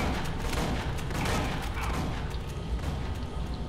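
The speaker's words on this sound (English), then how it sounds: "Let me shoot this guy over here." Gunfire in Aliens Colonial Marines, with a continuous loud volley of shots and booms and no pauses or clear voices.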